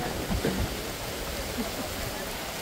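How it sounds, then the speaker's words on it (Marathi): Heavy rain falls at a village cricket ground as a dense, even hiss. Faint voices briefly come through the downpour. "पाऊस आता खूप मोठा यायला लागलाय वाढायला लागलाय पाऊस आता"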